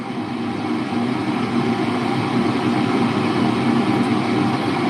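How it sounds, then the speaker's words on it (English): Inside a moving car, a loud steady roar of the cabin fan and tire noise fills the space continuously, broad and unchanging throughout with no voices. "The fan never changes sound, right? It never changes the sound in this car. It's just loud."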